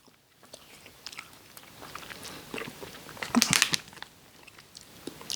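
Someone bites into a Lafrutta grape yogurt ice cream, a sudden close crunch rising out of quiet soft mouth noises and faint rustling.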